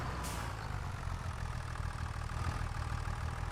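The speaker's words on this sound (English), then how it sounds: "Love the sound of this tractor." A tractor engine in Farming Simulator 25 holds a steady, close idling drone for a few seconds. It sits alone with no speech.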